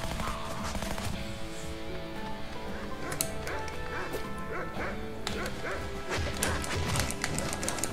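A dog attacking in the game Shank, barking and yipping repeatedly amid crashing combat noise, loud and close throughout.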